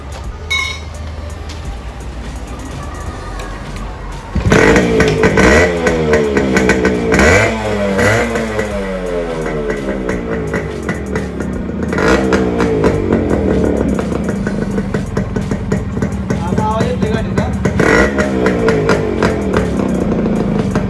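A Suzuki Max 100 motorcycle fitted with an RX 100 style muffler runs with a direct-cut exhaust and no pipe, idling low before bursting into loud, raspy repeated revs that rise and fall close by.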